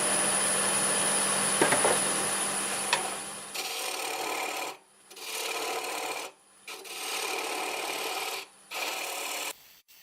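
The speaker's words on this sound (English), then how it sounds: "Back to the 1/2" bowl gouge." A 1/2 inch bowl gouge cutting wood on a lathe while turning a coffee scoop, a steady raspy shaving hiss that cuts in and out in several bursts with brief pauses between passes.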